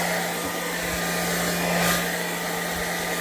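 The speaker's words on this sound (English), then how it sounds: "I'm going to move this hairdryer around quick" Hair dryer blowing alcohol inks, a steady loud whooshing hum with a constant motor tone, alone without talk.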